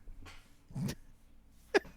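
A single quick sneeze near the microphone, preceded by a soft breathy intake, then a short sharp burst afterward.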